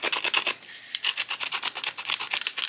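A flint stone saw cuts into a wooden stick with fast, rhythmic back-and-forth rasping strokes, close and alone, with a brief pause partway through.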